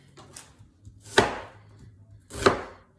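Two sharp knife chops through an onion on a cutting board, about a second apart, each a crisp, close thud-and-crunch, with quiet background between strikes.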